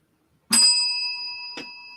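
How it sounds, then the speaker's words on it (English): A small bell is struck twice, close and bright; the first ring is loud with a long metallic ringing tail, the second lighter strike follows a second later. "I've really gone crazy with the bell today."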